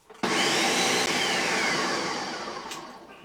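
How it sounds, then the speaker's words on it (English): A kitchen blender whirs loudly as it purees birria sauce. It starts abruptly and runs as one steady roar, easing slightly in pitch and volume toward the end. "Okay, back on the blender."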